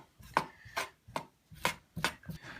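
A knife trims squid tubes on a cutting board, giving six crisp, close chopping knocks at an uneven pace over a quiet background.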